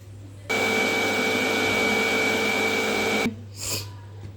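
Mixer grinder run once to blend carrot kheer with sugar, a single loud whirring burst of about three seconds that starts and stops abruptly over a low background hum.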